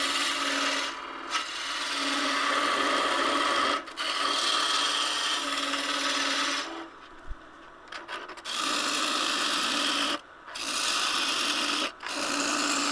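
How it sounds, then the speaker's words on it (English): A small three-quarter-inch skew chisel takes quick peel cuts on River Sheoak spinning on a wood lathe, a loud continuous shaving rasp broken by several short pauses as the tool lifts off. "I'm just doing some really quick peel cuts"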